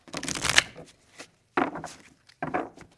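Three bursts of card shuffling, each a quick riffle of crisp paper flutter followed by a pause, close and fairly loud.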